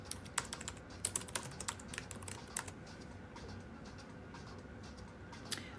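Quick bursts of typing on a computer keyboard, light clicking keystrokes close by in a quiet room, trailing off into near silence.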